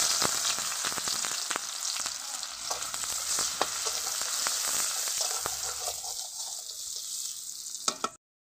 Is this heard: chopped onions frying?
yes